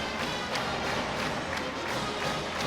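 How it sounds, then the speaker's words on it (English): Arena crowd at a women's college volleyball match between Washington and Oregon keeps up a steady roar of cheering and noise, with scattered claps and thuds throughout. "Crowd making a lot of noise."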